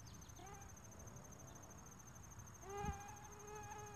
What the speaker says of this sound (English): Getting this mosquito right now.